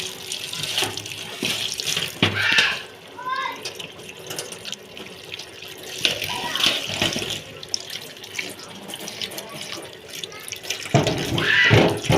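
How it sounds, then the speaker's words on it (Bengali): Cucumbers, green chilies and coriander leaves washed under a running kitchen tap, steady splashing water with bursts of louder rinsing and handling, close by, with brief speech in the background. "শসাগুলো, কাঁচামরিচ, ধনিয়া পাতাগুলো ভালো করে ধুয়ে নিতে হবে।"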